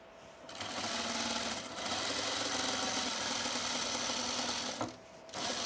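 A sewing machine top stitching a sunblock top runs in a steady, close whir, dropping briefly twice before resuming at full speed.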